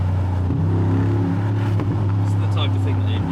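A Mercedes-AMG G700S growls at a steady low drone while driving, its engine and exhaust swelling briefly around the middle under someone talking over it.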